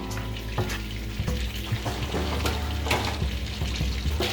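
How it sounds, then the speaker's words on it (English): Butter melts in a pan while cooking miso ramen, giving a steady close sizzle with light scraping as it is moved around. No one speaks. "Move the butter around and allow it to evenly melt"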